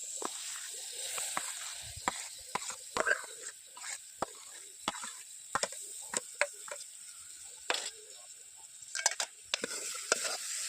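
Onion and soaked dal being stirred with drumstick leaves in a pan, heard as soft scraping and sloshing with repeated sharp clicks of a spoon against the pan, fairly quiet and close.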